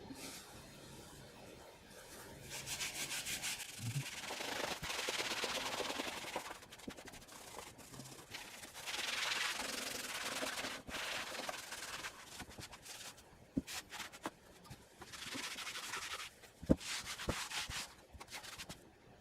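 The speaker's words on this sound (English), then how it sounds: "let's go ahead and scrub that with the magic eraser" Magic eraser scrubbing the case and rubber feet of a Commodore 64 during a restoration: soft, close rubbing and swishing strokes in uneven bursts with a few small taps, fairly quiet and without talk.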